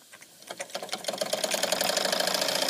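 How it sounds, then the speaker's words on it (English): A small model steam engine driving an alternator starts up with quick chuffing beats that speed up into a fast, steady mechanical clatter, growing louder over the few seconds. "And this mechanical device, steam engine, is also running an alternator for creating electrical energy"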